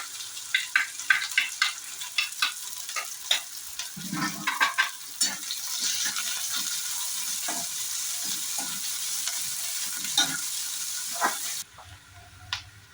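Sliced onion fries in hot oil, giving a steady bright sizzle with stirring clatter and scraping throughout, close up. The sizzle cuts off abruptly near the end.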